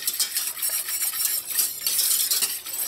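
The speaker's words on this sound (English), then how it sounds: "I'm just going to mix that pectin in." Pectin stirred into cooled sorrel in a pot, heard as a continuous, close swishing and scraping of a spoon in quick circular strokes with no one speaking.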